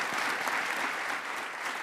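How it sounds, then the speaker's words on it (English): Conference audience applauding steadily, a dense even wash of clapping from many hands that holds throughout without a break. "He certainly deserves a round of applause just for his remarkable leadership."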